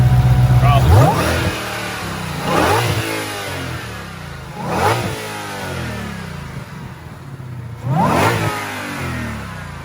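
A 2020 Shelby GT500's supercharged engine, with no cold air intake, revs in neutral with the hood open: four loud, rising blips spaced a couple of seconds apart, each falling back to a steady idle, recorded close by.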